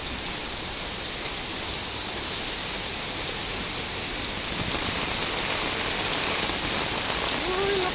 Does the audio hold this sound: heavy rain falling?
yes